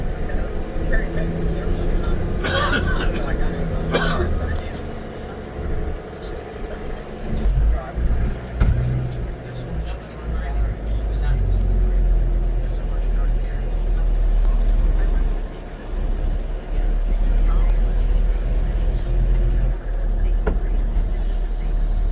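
A bus rumbles along the streets of Nassau, heard from the front seat, its engine and road noise steady and close under occasional people talking nearby.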